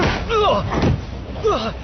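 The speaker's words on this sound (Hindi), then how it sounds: "मैं दरवाजा बंद कर रहा हूँ।" A door slams shut with a heavy thud in a Hindi-dubbed Fantastic Four movie scene, while voices talk over and around the impact.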